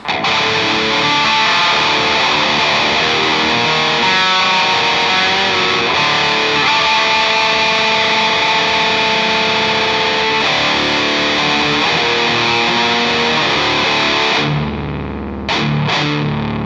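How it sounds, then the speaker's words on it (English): Distorted electric guitar driven through a Big Muff boost pedal, playing dense, saturated riffs with palm mutes, loud and continuous before cutting out near the end for a couple of brief bursts. "I can show you the boost on top of that, the big muff."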